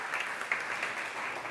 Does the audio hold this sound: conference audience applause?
yes